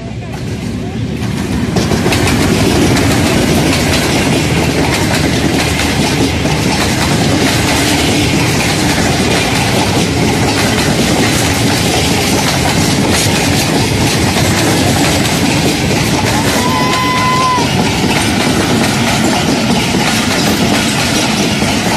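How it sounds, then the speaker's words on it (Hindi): A train passes close by, producing a loud, steady rumble and clatter of wheels on rails that continues for the whole stretch. "वो वहाँ से ट्रेन आ रही है"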